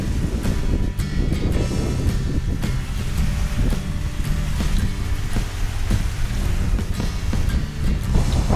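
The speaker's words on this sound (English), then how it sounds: "audio is going to sound sort of bad because of the wind and the water" Heavy wind buffeting a microphone over rushing, churning water on a hike at Rainbow Falls, loud and continuous with no voices.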